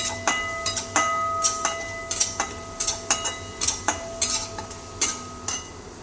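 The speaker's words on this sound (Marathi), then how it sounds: "हे चांगलं मिक्स करून घेऊया" Spoon scraping and clinking in a pan while cumin, coriander powder and turmeric are mixed into a masala for vada pav, a steady series of sharp metallic taps roughly every half second over a low continuous hum.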